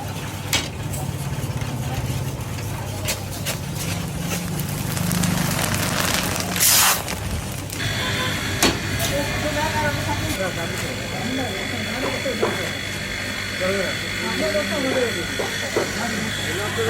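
A machine roasting puffed rice runs with a steady mechanical whir and rattling hiss, joined midway by a sharp burst of noise, with people talking over it.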